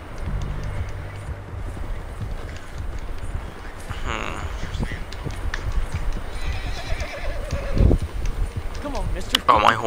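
A horse whinnies and hooves clip-clop in Red Dead Redemption 2, amid busy game sounds and effects, with voices talking over the action.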